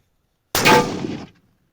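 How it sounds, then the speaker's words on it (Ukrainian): A single .308 bolt-action Remington 783 rifle shot with an FMG round striking a steel plate, a sharp, loud metallic crack with a short ringing decay after silence. "А Зараз будемо з 308 стріляти"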